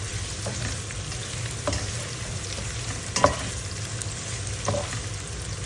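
Thinly sliced onions frying in a pan give a steady crackling sizzle, with a few soft stirring scrapes and taps standing out, close and constant throughout.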